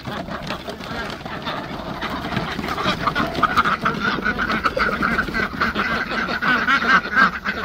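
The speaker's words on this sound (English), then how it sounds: "Try and count these ducks as they come out the ramp here." A flock of farm ducks streams down a barn ramp in the morning, quacking busily and continuously at close range, with a louder, denser chorus in the second half and people talking underneath.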